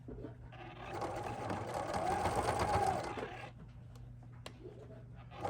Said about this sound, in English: And get it sewed around.